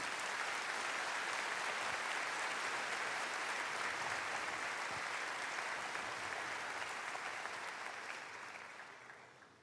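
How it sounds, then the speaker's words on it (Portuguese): A church congregation applauds during a sermon, steady sustained clapping filling the room for nearly ten seconds before it slowly fades, heard fairly distant and soft. "Pode aplaudir a Jesus"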